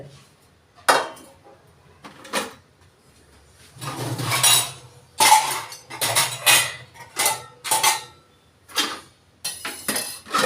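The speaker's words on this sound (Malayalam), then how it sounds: "ഇനിയും കുറേ പാത്രങ്ങൾ കിടക്കുമല്ലോ വാഷ് ചെയ്യാനായിട്ട്" Dishes, pots and pans being washed at a kitchen sink, with a string of clinks and clatters that come in irregular bursts close by, separated by short quieter gaps; nobody speaks.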